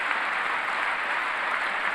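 A crowd applauds at a State of the Union speech in a large hall, producing a steady, dense wash of clapping that holds at an even level without pause or voices.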